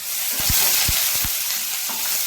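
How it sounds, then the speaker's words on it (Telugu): Onions, curry leaves and green chillies frying in oil for a gongura boti curry, a bright continuous sizzle close up with a few soft low knocks from stirring, no voices. "ఉల్లిపాయలు అనేది పచ్చివాసన పోయినంత వరకు వేయించుకోవాలి."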